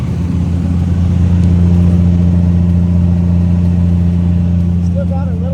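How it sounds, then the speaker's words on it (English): A turbocharged 2JZ engine in a Nissan 240SX at a Gridlife track event runs with a steady loud droning hum close by, holding a fairly constant pitch, with a voice briefly audible near the end. "That turbo noise is great."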